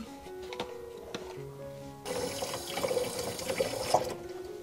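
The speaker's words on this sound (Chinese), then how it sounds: "接着我们来冲洗牛奶盒里边的豆子。" Tap water runs into a milk carton holding mung beans for rinsing, a quiet trickle at first that turns into a louder, steady gushing splash of filling water about halfway through.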